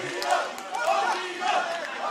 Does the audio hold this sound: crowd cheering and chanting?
yes